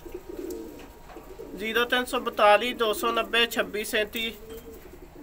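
Pigeons cooing close by in soft, repeated rolling calls, mixed with someone talking over them for much of the clip.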